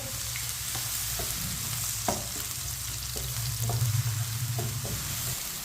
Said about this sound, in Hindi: उसी ऑयल में 2 बारीक कटे हुए प्याज डाल लेंगे।